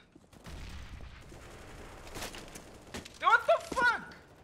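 A few faint, isolated gunshots crack at a distance in Counter-Strike: Global Offensive, sparse and brief against a quiet background, followed by short chirpy vocal-like sounds.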